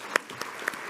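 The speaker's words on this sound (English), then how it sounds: "a round of applause for everybody, the sound and lighting crew." Audience at a live event clapping for the band, food servers and the sound and lighting crew, with a few sharp claps standing out over a thin crowd wash in a short burst.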